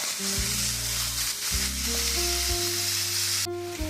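Ground beef and onion fry loudly in a pan for a slow cooker beef stew, giving a steady, close, continuous sizzle with background music playing throughout.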